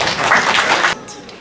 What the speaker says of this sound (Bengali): করতালির মাধ্যমে তাকে স্বাগত জানাই।